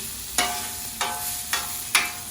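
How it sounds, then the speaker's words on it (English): Chicken sears on a cranked-up hot griddle while a spatula stirs and breaks it apart. Four sharp scraping strokes land at a steady pace over a constant close sizzle, with no talking. "Just gonna give these a stir and kind of break these up. Get them laid out flat. Get them browning up nicely."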